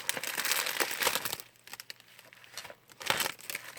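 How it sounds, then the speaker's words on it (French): Bubble wrap crinkles and rustles close by, a dense stretch at first, then scattered handling crackles. "Alors, il y a du papier bulle."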